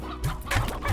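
Chickens in the video game Slime Rancher give a short burst of close clucks, a few quick calls within a second, with no talk over them.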